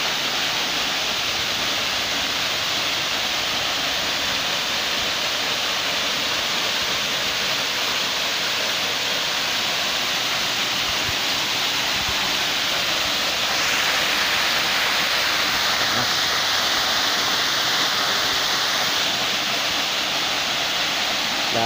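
Cabbunbata Falls waterfall pours in a steady, close, full roar of rushing water that holds constant and fills the whole stretch without a break or any voices.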